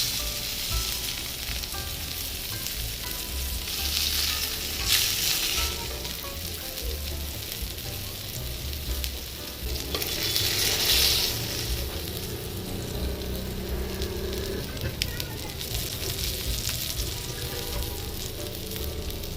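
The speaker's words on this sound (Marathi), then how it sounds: "अशाच प्रकारे आपण सर्व पीसेस फ्राय करून घेणार आहोत" Vam fish pieces frying in a pan over a charcoal stove, a continuous hissing sizzle with crackling bursts that swell now and then, close and steady with no talking.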